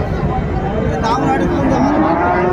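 A cow lows at a busy cattle market selling Friesian and crossbred bulls and calves, one drawn-out moo rising over the crowd's chatter and bargaining voices close by.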